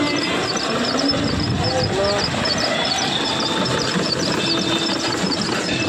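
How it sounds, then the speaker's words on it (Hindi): A tractor runs in a soybean field with a tractor-driven pump spraying pesticide, a steady outdoor engine drone with a faint rhythmic ticking beneath someone talking over it. "ये चल रहा है यहाँ पे ट्रैक्टर और उधर छट रही है दवा।"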